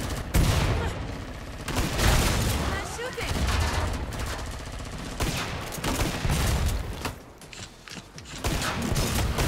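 Dense, continuous gunfire from Killing Floor 2, with rapid bursts and overlapping shots layered with mechanical clatter and game effects, loud and sustained throughout with little pause.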